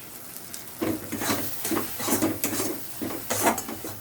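Mashed egg bharta with garam masala and a little sugar sizzles and fries in a pan, stirred with scraping strokes in an uneven rhythm, close and moderately loud.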